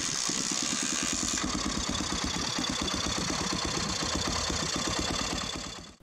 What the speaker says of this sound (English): First, we recorded his diesel pickup truck engine